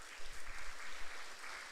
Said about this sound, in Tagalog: Palakpakan natin ng Lord